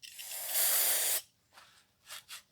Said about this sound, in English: this newfangled brake clean still finds every cut you've got